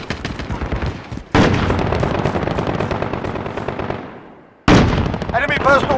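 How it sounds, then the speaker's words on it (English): Call of Duty: Modern Warfare cruise missile launch and explosions, loud dense rumbling blasts with rapid gunfire-like crackle, cutting out briefly before another heavy burst, with game voice callouts. "Cruise missile, go for launch."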